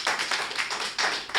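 A small audience claps at a Hindi kavi sammelan poetry gathering, a short burst of several pulsing waves of applause, fairly close and without speech.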